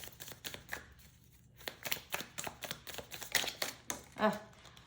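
Rapid, uneven flicking and slapping of tarot cards being shuffled by hand, a dense run of crisp clicks up close with no talking.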